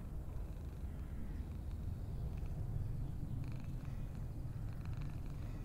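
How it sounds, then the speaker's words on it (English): A low, steady rumbling purr of cats in a Russian horror video game runs throughout, soft and close, with faint higher-pitched noise drifting in near the end. "Do you hear cats purring?"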